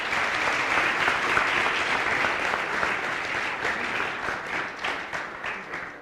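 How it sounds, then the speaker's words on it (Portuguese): A lecture audience gives a dense, steady round of applause for a volunteer, continuous and close, tapering slightly toward the end with no talk over it. "Palmas para o nosso usuário."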